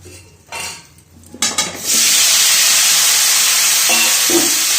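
Cauliflower florets seasoned with salt and turmeric drop into hot oil, giving a sudden loud, steady sizzle that fills the rest of the moment, with a few pan clinks before and near the end, and no voices.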